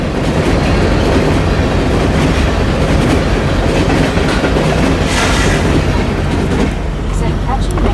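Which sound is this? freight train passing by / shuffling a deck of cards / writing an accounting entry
freight train passing by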